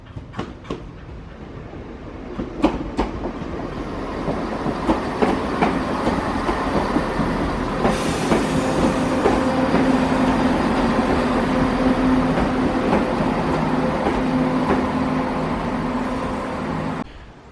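A train rumbles steadily past at a station, wheels clattering over the rails with a rising, sustained roar and a faint squeal, no voices.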